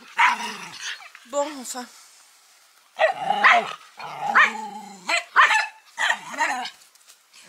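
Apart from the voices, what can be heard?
dog barking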